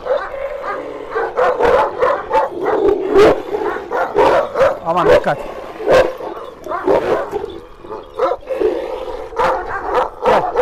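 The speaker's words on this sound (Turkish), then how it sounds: "10 yaşındaki köpeğimiz o da." A ten-year-old Caucasian shepherd guard dog barks and yips in repeated loud bursts, with whimpers between them, while people talk nearby.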